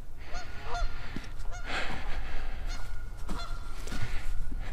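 Several geese honk repeatedly from a distance in an outdoor orchard during apple tree pruning, with irregular overlapping calls over steady background noise.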